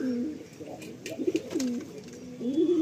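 Pigeons in a loft give soft, repeated rolling coos close by, with faint background noise and no clear talking.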